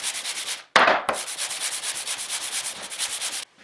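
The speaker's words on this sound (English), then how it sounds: "I can sand pretty rigorously with this" Rigorous sanding on a workshop sanding station, a steady abrasive rubbing hiss that runs continuously and loudly, broken only by a brief pause and a harder scrape near the start, with no talking.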